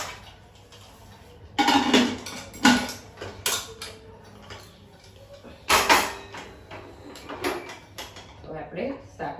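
A pot of vegetables for undhiyu is set up to steam in a home kitchen, with loud metallic clanks of lid and pot, scraping and handling noises in bursts, and voices talking in the background.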